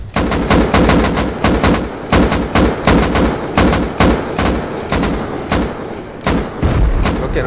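Repeated gunfire and heavy blasts from a rocket raid in the survival game Rust, a rapid string of loud, sharp bursts and booms filling the whole stretch with barely a pause.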